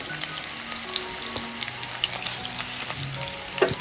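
Medium onions and tomatoes, placed halved into hot oil, sizzle and fry steadily at close range, with small pops and crackles scattered over a continuous hiss and a sharper spatter near the end.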